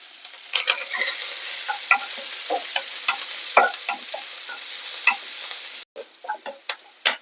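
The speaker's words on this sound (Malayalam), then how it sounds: "മുളക് ചേർത്ത് ഉള്ളി ചേർത്ത് കൊടുക്കാം സവാള വരുന്നതാണ്" Chili, onion and curry leaves frying in a pan with mustard seeds, a soft hissing sizzle punctuated by frequent crisp spatters and stirring clicks, close and without talk.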